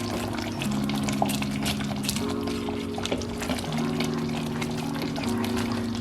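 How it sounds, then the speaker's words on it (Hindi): Aloo keema fries in a pan with a steady, moderately quiet bubbling and spattering hiss over a constant low hum, with no talk. "छींटे पड़ना शुरू हो गए हैं क्योंकि अभी ये भुनने वाली स्टेज पे आ चुका है।"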